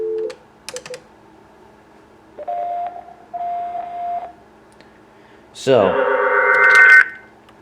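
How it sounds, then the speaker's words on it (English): Cisco 7942G IP phone on a FreePBX chan_sccp setup sounding paging tones: short electronic beeps, then two sustained tones and a louder swelling multi-tone chime near the end, with a brief spoken word at the start. "we have just activated the page"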